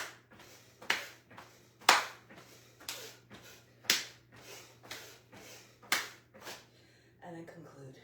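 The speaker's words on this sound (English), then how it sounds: "And then clap your hands over your head." Sharp, close hand claps overhead during a Dharma Yoga class, about nine crisp smacks falling roughly once a second in a steady rhythm, each followed by a short room decay, ending with a softer rustle.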